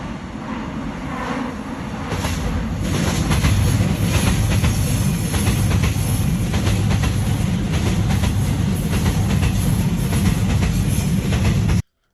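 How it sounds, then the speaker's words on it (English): A train rolls past on the rails with a loud, continuous rumble and rhythmic clatter that builds after the first couple of seconds and holds steady until an abrupt cutoff. "Here is a train that I think popped out."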